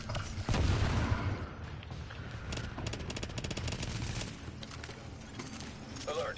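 Sustained gunfire in the shooter The Division: rapid automatic bursts fired at close range, loud and continuous with scattered impacts, and a voice speaking over it at times.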